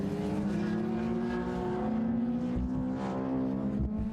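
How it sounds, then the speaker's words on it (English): Onboard engine drone from a GT race car at Snetterton circuit, a steady loud harmonic roar with shifting pitch as the driver works through the left-right S-bends, continuous and close throughout. "On board now with Ian Hartley as he turns his way left and then right through the S's"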